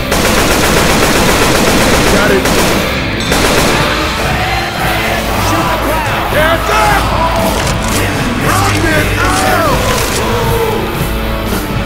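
Dense, continuous machine-gun fire in Left 4 Dead 2 at a concert, loud and close, with yelling voices and crowd noise mixed through the steady shooting.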